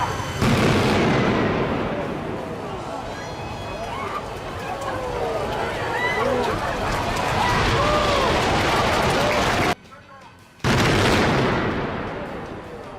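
Explosive demolition of a 170-foot shopping center in Recklinghausen, with water hoses spraying to limit dust: a loud sustained roar and rumble of collapsing structure with crackling debris, continuing for many seconds, briefly cut out near the end.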